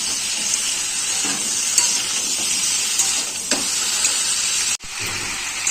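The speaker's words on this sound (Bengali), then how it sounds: "নুন হলুদ দিয়ে এটাকে আমি ভেজে নেব" A live fish frying in oil with salt and turmeric for a fish curry with bottle gourd and potato, giving a loud continuous sizzle with a few soft stirring scrapes, a short cut near the end, and no talk.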